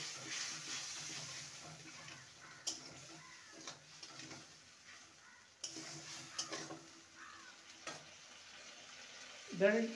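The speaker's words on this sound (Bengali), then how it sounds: "একটু বাটি ধোয়া জল দেব। ভালো করে মিশিয়ে নেব।" A vegetarian curry with ground chilli and cumin simmers quietly in a pan while a spoon stirs and scrapes in soft, intermittent strokes, faint and close, ending with a louder clink.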